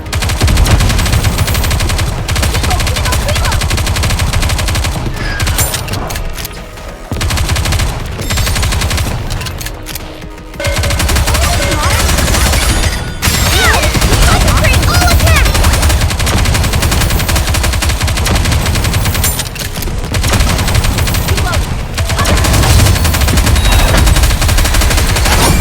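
Dense, sustained automatic gunfire and rapid shots roll almost continuously through a PC battle in NIKKE: Goddess of Victory, with brief lulls before bursts resume at full loudness.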